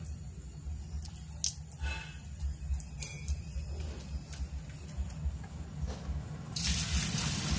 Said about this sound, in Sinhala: මේ බැරල් එකේ තියෙන වතුර යනවා.